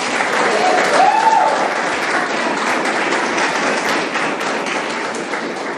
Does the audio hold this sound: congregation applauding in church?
yes